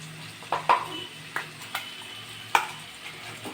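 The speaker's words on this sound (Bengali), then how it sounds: "লাল করে ভাজলাম দেখুন" Food fries in a pan until browned, with soft sizzling under scattered stirring scrapes and light clinks of a utensil against the pan.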